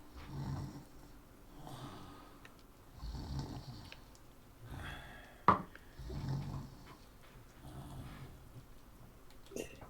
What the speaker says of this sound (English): sounds of snoring comes from it